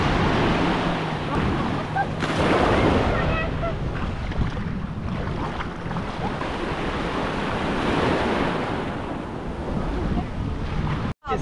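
Sea waves wash steadily onto the beach at Ponta de Mangue on a full high tide, a continuous roar of surf mixed with heavy wind buffeting the microphone.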